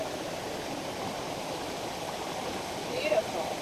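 A clear stream flows with a steady, moderately loud rushing hiss and a brief swell of splashing near the end, while a voice is faintly present underneath.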